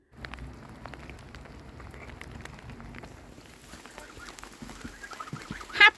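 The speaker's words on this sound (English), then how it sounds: "Happy geese." Geese call in a wet outdoor pen during rain, scattered soft honks and clucks over a steady patter of raindrops, with a louder burst of calls near the end.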